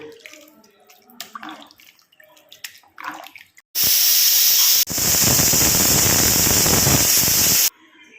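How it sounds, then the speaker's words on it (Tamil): Pressure cooker cooking sambar rice whistles in two loud hissing blasts, the first short and the second longer, after a stretch of quiet kitchen noise. "பாருங்கள், விசில் வந்துருச்சுங்க. 4 விசில்."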